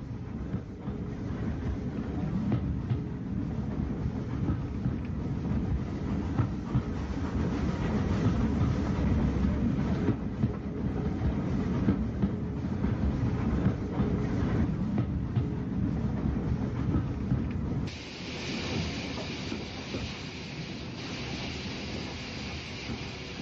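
Southern Railway 2-BIL electric multiple unit arriving at Lewes station on a service from Seaford, in 1950s–60s archive footage: a steady, fairly loud rumble of wheels and motor rolling in for about eighteen seconds, then a quieter, thinner hiss as it slows.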